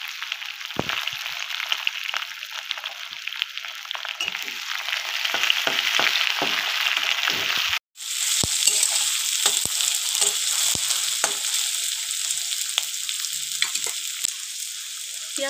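Onions hit hot oil already tempered with bay leaves, dried red chillies and whole garam masala, giving a loud, steady sizzle with scraping stirs and a brief break midway, cooked for a goat head curry.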